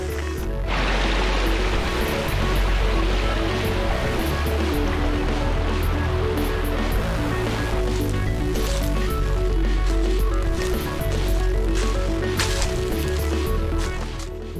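A large river flows beneath a big swing bridge on a trail, a steady, loud, broadband rush of water that continues throughout without a break.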